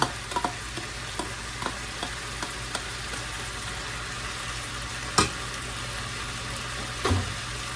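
Diced onions and diced green peppers cooking with cabbage in a pan for oven fried pork chops, a steady low sizzle broken by scattered stirring clicks and a couple of louder scrapes, with no talking.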